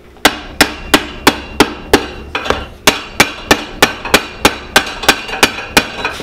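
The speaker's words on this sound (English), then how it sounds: "we're going to use squared off iron nails that uh, would have been used at that time." Square iron nails are hammered into the soles of restored Civil War–style brogan shoes: about sixteen sharp, ringing blows land in a steady, even rhythm, close and loud.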